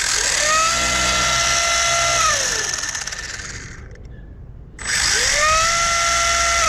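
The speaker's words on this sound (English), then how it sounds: "I'm just gonna show you how the wheel speed is on it." Brushless motor of a Losi Mini JRXT RC truck spinning its wheels, a loud high-pitched electric whine that winds down, dips nearly silent, then revs back up sharply.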